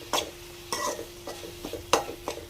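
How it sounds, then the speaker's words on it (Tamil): Brinjal gravy mixed in a pan, quiet spoon scrapes and clinks against the metal in uneven strokes, each a short bright scrape with pauses between. "இது எல்லாத்தையும் நல்லா மிக்ஸ் பண்ணி விடலாம்"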